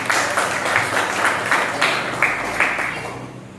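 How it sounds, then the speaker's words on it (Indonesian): Vocational high school students clap together in a classroom after a school cheer, loud rhythmic group clapping with regular pulses that fades toward the end. "tepuk tangan"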